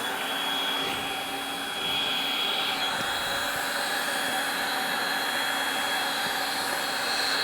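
A heat gun blows continuously while warming a Dbrand vinyl skin on a MacBook Pro, a steady close airy whoosh with a slight rise in intensity partway through.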